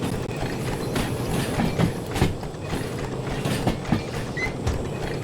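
A heavy steam locomotive hauling a loaded train in the Derail Valley simulator gives a loud, steady mechanical rumble, with rhythmic clanks and clacks recurring throughout.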